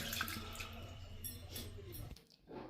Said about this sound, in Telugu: ఈ విధంగా వడబుట్టలో వేస్తే వాటర్ అంతా కూడా పోతుంది